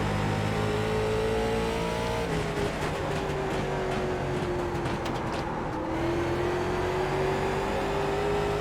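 A late model race car engine in the iRacing sim at South Boston Speedway drones loudly and steadily, its pitch sagging and then climbing again as it comes off and back onto the throttle through a lap.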